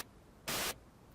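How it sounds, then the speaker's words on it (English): A Haken Continuum synthesizer playing an EaganMatrix stereo noise preset with all reverb turned off gives one short, loud burst of broadband hiss that cuts off cleanly and leaves no tail. "Let's start by bringing up the building block stereo noise preset."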